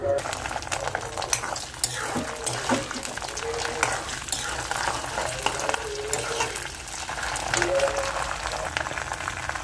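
Peanuts and small cut ginger pieces fry in a pan, giving a steady crackling sizzle with stirring scrapes and some light background noise throughout.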